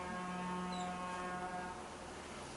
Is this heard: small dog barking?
no